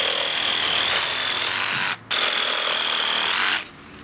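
A powered pruner cuts through tree branches in a front yard with a loud, continuous buzzing whine, breaking off briefly near the midpoint, then resuming before stopping toward the end.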